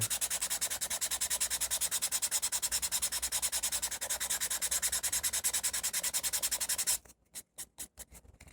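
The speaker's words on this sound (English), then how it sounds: "you can take some sandpaper and help transition that seam" Sandpaper rubs along the seam of a carved marionette head in quick, even back-and-forth strokes for about seven seconds, then a few slower, separate strokes, close and alone.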